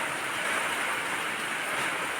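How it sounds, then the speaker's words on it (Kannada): Steady, unbroken rain hisses evenly throughout, a dense wash of noise with no voices or breaks. "ಇವತ್ತು ಶುರುವಾದ ಮಳೆ ಕಂಟಿನ್ಯೂಯಸ್ ಆಗಿ ಬರ್ತಾಯಿದೆ"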